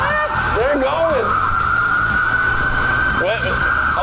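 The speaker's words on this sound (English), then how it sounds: "Siren and everything. They're going." Emergency vehicle siren wailing loud and steady for about four seconds, its sweeping tone rising and falling, with voices talking over it.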